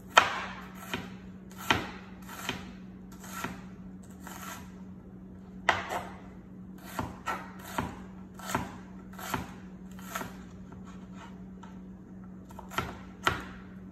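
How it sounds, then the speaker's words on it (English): A knife chops an onion on a kitchen board, crisp sharp knocks in an uneven rhythm, close and clear over a faint steady hum. "Peel off one layer of onion. Cut off both ends"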